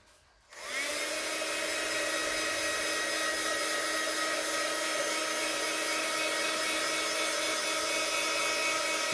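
Hair dryer switched on and running steadily to dry a Lindy's Gang Magicals spray on a scrapbooking project, a loud continuous whirring hiss that starts abruptly after a short quiet moment and holds unchanged.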